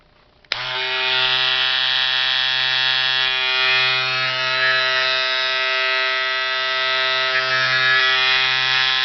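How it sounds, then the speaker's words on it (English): A Wahl 5 Star Finale finishing tool (electric hair trimmer) switches on abruptly and runs steadily with a loud, even motor buzz, holding close and constant with no talking. "So let's go ahead and do a sound bite on this."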